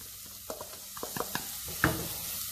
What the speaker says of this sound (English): then we're gonna put in the carrots at this point